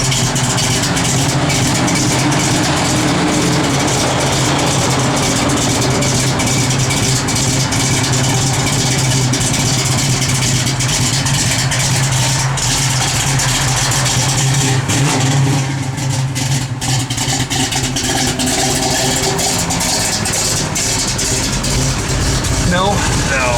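A 1970 Chevrolet Chevelle SS idles loudly with a lumpy, choppy cam rhythm, a steady heavy rumble running throughout with people talking over it.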